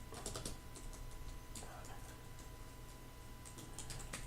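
Quick, irregular clicks of keys being tapped on a computer keyboard, light and close, over a faint background hum.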